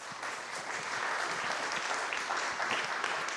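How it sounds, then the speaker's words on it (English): Audience at a book talk applauding Dr. Rob Gore, a continuous, even patter of many hands clapping at moderate loudness from start to finish. "I would like everyone here to give Dr. Rob Gore a round of applause"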